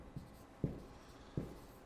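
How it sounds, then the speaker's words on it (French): Chalk or a pen writes on a board during a maths lesson on function limits, making a few faint, separate taps and short strokes at an uneven pace. "je vais écrire"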